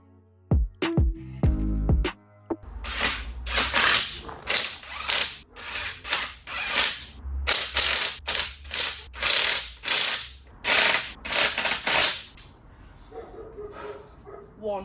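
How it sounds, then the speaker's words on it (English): An impact gun rattles in a series of loud, close bursts as it tightens the wheel bolts on an alloy wheel of a Volkswagen Golf, the short mechanical hammering repeating about a dozen times after a few brief knocks. "I then pop the bolts in by hand before using the gun to tighten them up."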